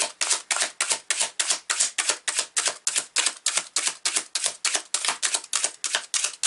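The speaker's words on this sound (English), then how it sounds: "I'm going to pull some cards." Tarot cards are shuffled in quick, even bursts, about four papery riffles a second, loud and close with no talking.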